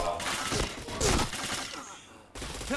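Video game gunfire crackles in rapid bursts, several loud shots clustered close together with sharp broadband cracks, then a brief lull before another burst.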